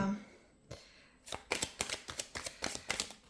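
Tarot cards being shuffled and drawn, a rapid series of crisp riffling snaps and flicks in a quick rhythm after a quiet start, close and clear.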